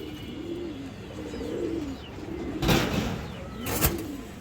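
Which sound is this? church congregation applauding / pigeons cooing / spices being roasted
pigeons cooing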